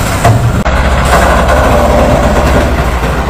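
A FAW CA6 truck carrying about 63 tons runs its engine with a loud, close, continuous low rumble, a broad mechanical roar throughout and a brief dip near the start.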